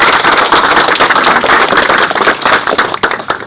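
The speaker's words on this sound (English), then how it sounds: "Can we have a round of applause for the ladies, please?" A crowd at an Eid celebration at Labour Party headquarters gives a round of applause, with dense, steady clapping that holds loud and continuous throughout.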